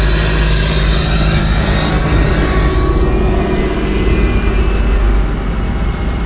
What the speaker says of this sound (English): air compressor. You hear it?